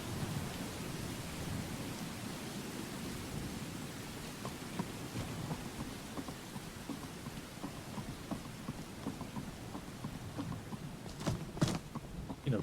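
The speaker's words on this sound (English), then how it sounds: "Rainy and foggy, that's great." Steady rain falling in the video game Skyrim, a constant broadband hiss that runs evenly throughout with a few soft drip accents near the end, fairly quiet and without speech.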